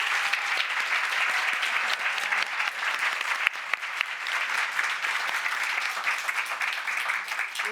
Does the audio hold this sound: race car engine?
no